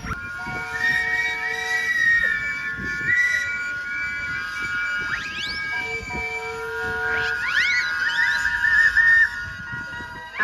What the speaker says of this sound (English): Give us a blast. 3, 2, 1, blow those whistles.